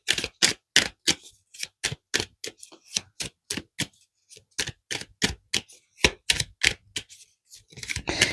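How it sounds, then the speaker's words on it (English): Tarot cards are shuffled and pulled, giving a close series of crisp, sharp slaps and flicks in an uneven rhythm with brief pauses, with no voice over them. "All right, I'm going to pull some more cards here."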